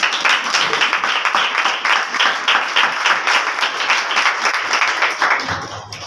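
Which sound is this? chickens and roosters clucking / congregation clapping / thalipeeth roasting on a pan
congregation clapping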